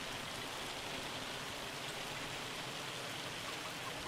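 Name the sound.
hail falling in video game Farming Simulator 25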